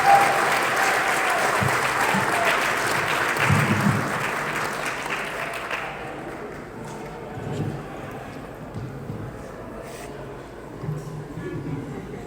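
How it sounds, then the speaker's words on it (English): Audience applause at a book launch, a dense burst of clapping that is loud at first and then thins and fades over several seconds, with a few scattered claps and low murmuring toward the end. "let's give a big round of applause to Maleeha for writing this book."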